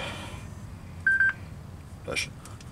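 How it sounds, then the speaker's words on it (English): A mobile phone goes off with a few short electronic beeps, a quick burst and then another chirp a moment later, in a workshop during a Jeep Wrangler TJ clutch replacement, amid faint background noise. "my phone's going off telling me it's time to go to work"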